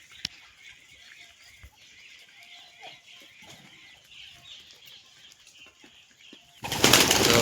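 Pigeons burst into flight with a flurry of flapping wings close by, a short loud whirr at the end after a quiet stretch of faint bird sounds.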